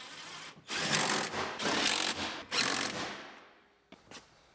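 Power tool driving bolts to secure a module in a 2013 Buick Enclave AWD, three loud bursts of whirring with short pauses, then a faint brief rattle near the end.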